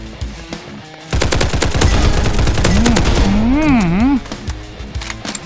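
Rapid automatic gunfire rattles loudly in the Roblox shooter Hypershot, a sustained burst of fast, even shots lasting about three seconds, bracketed by quieter game sounds and a warbling effect tone.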